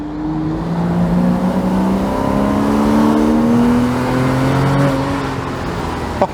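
A Porsche Boxster engine revs hard from the cockpit, a rising, sustained mechanical howl climbing in pitch before easing off, loud and close behind the seats.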